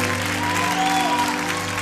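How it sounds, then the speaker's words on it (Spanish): Studio audience applause fills the space continuously, dense and loud, on a television talent show set, with no talk over it. "yo quiero que le demos un tremendo aplauso"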